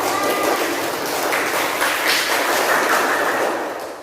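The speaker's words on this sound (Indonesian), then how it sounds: "kita beri tepuk tangan terlebih dahulu untuk kelompok 4" A classroom of students applauding a group's presentation, a loud continuous burst of many hands clapping that holds steady before tapering slightly at the end.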